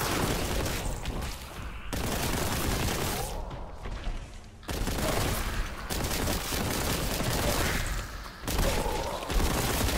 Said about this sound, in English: It's a flamethrower.